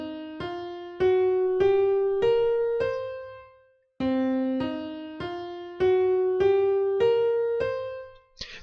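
A C blues scale plays on a keyboard: a clear run of single notes stepping upward, a short pause, then the same ascending run again, each tone sustained and decaying cleanly with no voice.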